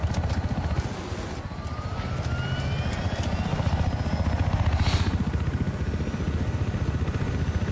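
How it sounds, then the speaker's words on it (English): Helicopter in Battlefield 4, a loud, close rotor chop beating in a fast steady rhythm under engine whine, with a few faint tonal sweeps above. "They're tough to land, these choppers."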